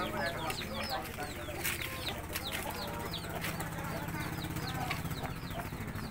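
Household chickens cluck steadily in a residential neighbourhood lane in Palembang, with chirping birds overhead and a constant low background murmur.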